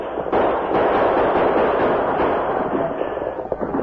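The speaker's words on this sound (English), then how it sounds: "protected by constant gunfire from the attacking horde" A dense, continuous barrage of gunfire from an attacking horde at a fort, loud and rumbling, with rapid overlapping shots blending into a sustained roar, in an old radio drama.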